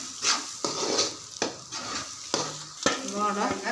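A spatula stirs and spreads egg noodle masala, made with chapati cut into strips, around a hot pan. Loud, close scraping strokes come every second or so over a continuous sizzle.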